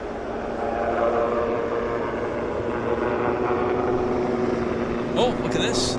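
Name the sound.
Aeromexico jet airliner at Vancouver International Airport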